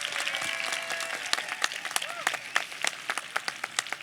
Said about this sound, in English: Let's give Janice a round of applause,